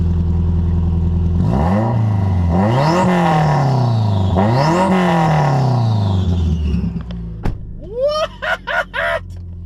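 A Subaru Forester's tuned engine with an electronic downpipe dump revs hard in repeated rising sweeps, loud and close, then cuts off and pops with a string of sharp crackles and bursts; no voices.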